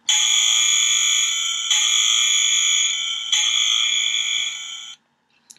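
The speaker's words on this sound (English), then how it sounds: "And that is some kind of alarm noise." A circuit-bent aircraft carrier toy's effects jukebox plays a loud, harsh electronic alarm tone that holds steady for about five seconds, with two brief pulses of added intensity, then cuts off abruptly into near silence.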